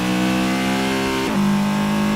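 A race car engine in a sim racing game at Dover Raceway, a loud, steady high-revving drone with strong harmonic tones that drop sharply at a gear change midway, then hold steady.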